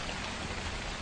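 Steady rain pours down in the horror game The Convenience Store, a dense, even hiss of drops on surfaces that holds at the same level without pause through the whole second.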